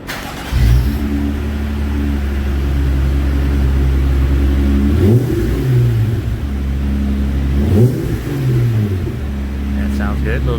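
Jeep JT Gladiator engine fitted with a Magnaflow exhaust, heard idling with a low steady rumble and then revved twice in rising sweeps before settling back, loud and close throughout.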